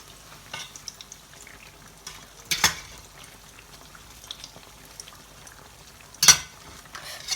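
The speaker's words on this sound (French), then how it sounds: "Je vais retourner les autres beignets d'avant que j'avais mis." Potato and mozzarella fritters fry in hot oil with a low, constant bubbling sizzle. Two sharp, louder splashing bursts stand out, the first near the middle and the second near the end, as pieces are flipped.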